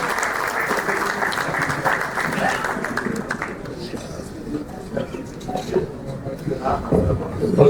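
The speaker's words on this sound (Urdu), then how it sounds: "بھرپور تالیوں میں استقبال کیجیے." Audience applause welcomes the recipient of a lifetime achievement award at a formal ceremony, a dense sustained roar of clapping for several seconds that thins out while scattered claps continue to the end.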